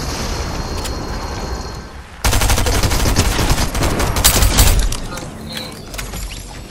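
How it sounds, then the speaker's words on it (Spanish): Fortnite gunfire erupting suddenly into a dense, loud barrage of overlapping shots and rapid bursts, preceded by a quieter stretch of game ambience, with talking mixed in. "Esto me están disparando todos"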